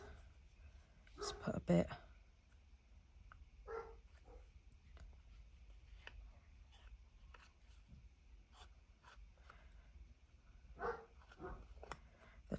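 Twin dogs bark at home, a couple of sharp barks early and a few more scattered later, somewhat distant, under a person talking and crafting noises.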